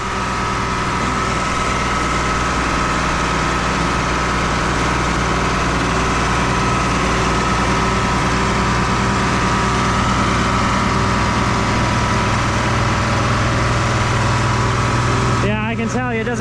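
A big white tractor's engine runs steadily, loud and close, with a constant low rumble and drone throughout; a voice speaks over it, and a brief disturbance comes near the end.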